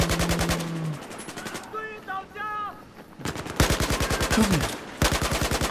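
Sustained rapid automatic gunfire in Battlefield 4, loud and close, broken by a short pause that carries tonal game sounds and a brief spoken word, then more long bursts.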